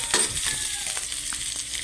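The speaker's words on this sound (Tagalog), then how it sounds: "ginis natin luya" Ginger, garlic and onion sautéing in a hot pan for a Filipino mussel and tomato dish, a steady close sizzle with a few stirring scrapes, loud and continuous, with no voices.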